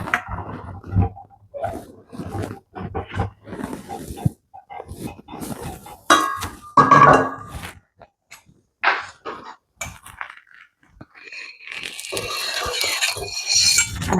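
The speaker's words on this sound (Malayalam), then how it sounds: "പയർ വേവിക്കാനുള്ള ചട്ടി വെക്കാം കേട്ടോ" A cooking pot for boiling beans is set down in a home kitchen, giving brief metallic knocks and clatters among other scattered utensil and dish noises, close by and fairly loud.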